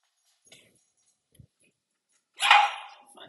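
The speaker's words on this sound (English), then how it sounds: "You'll excuse the dog barking in the background." A single dog gives a sharp, fairly loud bark from nearby, preceded by a couple of faint brief sounds in an otherwise quiet room.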